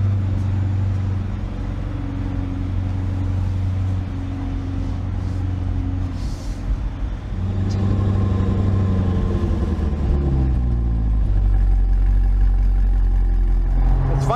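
A 2020 Chevrolet Corvette C8 convertible with its mid-mounted engine and exhaust in tour mode, a low steady drone heard from inside the cabin while driving, with pitch rising and shifting through gears midway.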